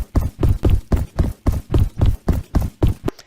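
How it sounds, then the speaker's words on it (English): Running footsteps in a Roblox game sound as a fast, even series of about a dozen loud, close thumps, evenly spaced and alone, ending with a quicker final pair. "Sound kinda works faster than the footsteps themselves."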